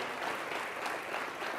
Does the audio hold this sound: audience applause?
yes